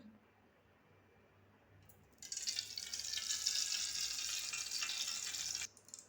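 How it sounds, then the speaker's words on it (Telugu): Green bitter gourd frying in a pan, a steady loud sizzle that starts suddenly after a quiet moment and holds for a few seconds before cutting off. "ఇది నేను ఈరోజు పచ్చ కాకరకాయ ఫ్రై చేస్తాను చూడండి"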